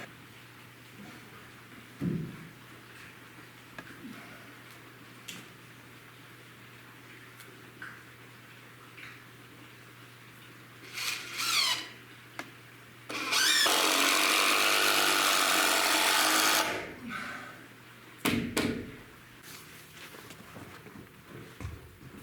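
A power drill drives a long screw in one sustained, loud whirring burst lasting a few seconds, surrounded by scattered footsteps, knocks and handling noises.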